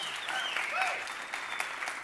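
Audience members at a conference talk on change data capture give steady applause with scattered individual claps, moderately loud, while a voice chatters faintly underneath.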